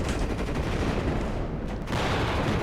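An M1 Abrams tank in the game Warno fires at a tower amid a dense, loud crackle of continuous gunfire and blasts, with a brief dip before the barrage surges again.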